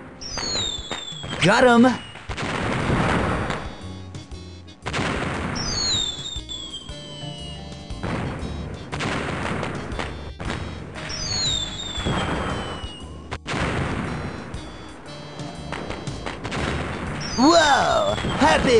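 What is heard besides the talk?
fireworks going off in a video game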